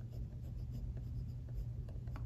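A Muji gel pen writing on smooth paper, a steady close scratching and gliding stroke texture with brief pauses, alone without talk.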